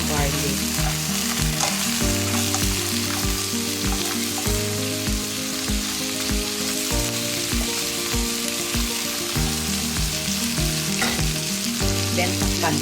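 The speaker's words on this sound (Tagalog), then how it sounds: "Ikisa muna natin siya para manuot yung amoy ng garlic." Crabs and garlic sauté in a pan with a loud, continuous sizzle, while heavy stirring and scraping knock at a steady rhythm, heard close throughout.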